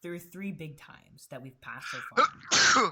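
A loud sneeze bursts out near the end, following a stretch of someone talking.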